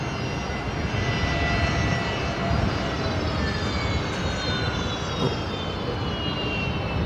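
A New Zealand Boeing 777 taxis toward the terminal at Brisbane Airport, its engines giving off a steady, loud roar with a high whine on top that holds evenly throughout, with no voices.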